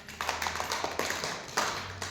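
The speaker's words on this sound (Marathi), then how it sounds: "टाळ्या वाजवा" Schoolchildren in a classroom clap their hands together in quick rhythmic bursts, moderately close, with a short pause partway through.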